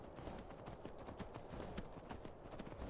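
Rapid hoofbeats of a galloping horse in the video game The Elder Scrolls V: Skyrim pound steadily and evenly across the whole stretch, with no talking.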